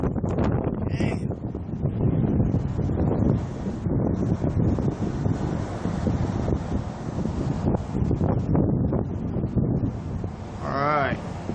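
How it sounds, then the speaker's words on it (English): Severe wind gusts along the Ohio River during a storm outbreak with tornadoes and high winds, roaring hard and steadily across the microphone and buffeting it loudly, with a brief high chirp near the end. "Severe wind gusts here."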